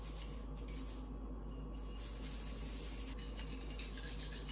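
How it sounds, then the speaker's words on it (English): Parts of an HO scale steam engine model are scrubbed with a brush in a close, steady rasping rub that runs without a break under a faint background hum. "making sure to scrub every part of the model."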